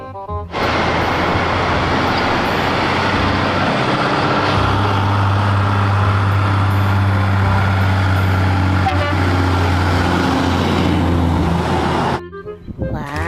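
A toy container truck sound effect: a steady, loud engine drone with a sustained horn-like tone that runs for about twelve seconds before cutting off abruptly.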